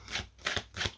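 Tarot cards shuffled by hand for a card reading, three quick soft riffling bursts in a row, close and fairly quiet with no talking.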